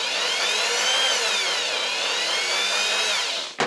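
An electric drill on a speed regulator whines steadily at a controlled high speed for over three seconds, loud and close, then spins down and stops abruptly with a brief final knock.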